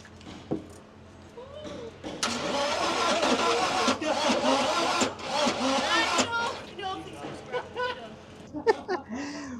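Volkswagen 1.9 TDI PD diesel engine, worn and overheated, running hard with a sustained loud roar and revving surges, with a voice talking near the start and end.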